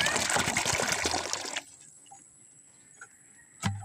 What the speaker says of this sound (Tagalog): Ngayon ay maghalo tayo ng 2 galon na tubig sa langgana.